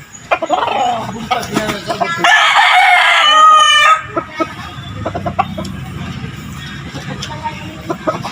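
A fighting rooster being conditioned before a fight lets out one loud, close crow in the middle, surrounded by scattered clucks, clatter and background voices.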